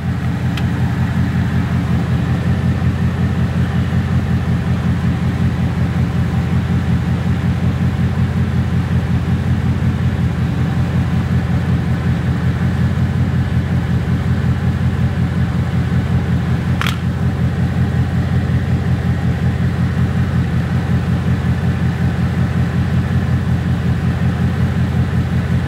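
A 2019 Ford Mustang engine idles with a steady, unbroken low rumble for the whole stretch, close and even in level, with no talk over it.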